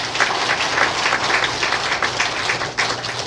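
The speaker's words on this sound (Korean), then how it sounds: "우리 서주 집사님 박수 한번 주십시오." A church congregation applauds for a deacon at an ordination and installation service, steady dense clapping from many hands filling the room throughout, fairly loud and close, with no voices over it.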